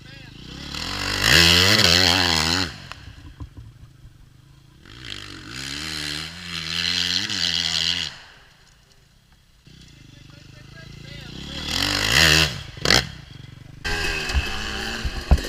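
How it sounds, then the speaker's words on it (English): Dirt bike engines rev in bursts out on a practice track, rising and falling whines with long harmonic sweeps, loud and near, separated by quieter gaps and ending with a sharp snap. "Jeremy and I are revving it up."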